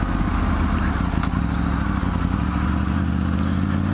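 A Triumph Tiger 900 GT Pro motorcycle runs steadily through gear changes with its quickshifter, a continuous loud engine drone with wind and road noise and no pauses.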